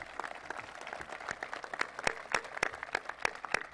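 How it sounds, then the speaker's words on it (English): An audience applauds at the IMG Academy commencement ceremony, a steady patter of many hands clapping with a few sharper individual claps standing out, heard from a moderate distance without speech. "So let's give them a round of applause and send them our thanks."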